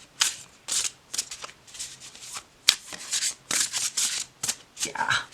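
A deck of gilded, flexible yet thick linen cardstock cards being shuffled up close, in quick riffling bursts repeated about a dozen times, crisp and fairly loud with short pauses between.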